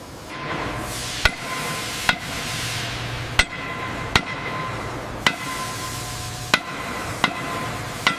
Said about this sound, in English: Hot rivet across. Got it, set it now. All right, drive it home.